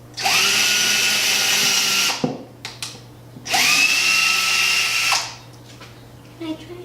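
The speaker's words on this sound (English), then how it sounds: "he's going to hold it down for me while I drill" Power drill boring into a wood pallet sign in two long, loud high-pitched whines, each about two seconds with a sharp start and drop-off, separated by brief clicks and handling noise.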